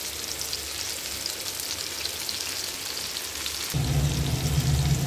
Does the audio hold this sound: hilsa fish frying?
yes